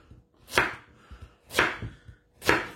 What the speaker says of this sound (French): Je vais couper mes carottes grossièrement.